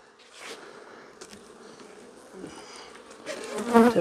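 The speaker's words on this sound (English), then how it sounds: "Lots of bees in here." Honey bees buzz around an open beehive during an inspection, a continuous droning hum with individual bees passing close and growing louder toward the end.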